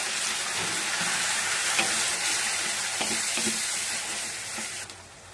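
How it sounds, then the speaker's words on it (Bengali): Ginger, garlic and chilli paste frying with coriander and cumin gives a steady close sizzle with light stirring scrapes, fading slightly at the end, with no talking. "এখন এর মধ্যে আমি দিয়ে দেবো আদা, রসুন, লঙ্কা বাটা, ধনে, জিরে সব দিয়ে মশলাটা কষাবো"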